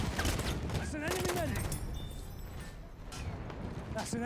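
1903 Hammerless pistol gunfire in the video game Battlefield 1, several sharp shots amid busy battle noise with other effects and a voice talking over it.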